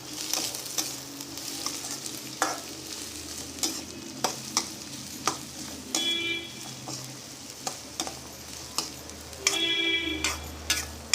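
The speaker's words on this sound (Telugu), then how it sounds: "వేడి కాగానే మనం ఈ బోడకాకరకాయ ముక్కలు ఇందులో వేసేసుకోవాలి." Pieces of spiny gourd sizzle in hot oil while being stirred, a steady frying hiss broken by repeated sharp scrapes and clicks of the spoon against the pan, close and clear with no talk.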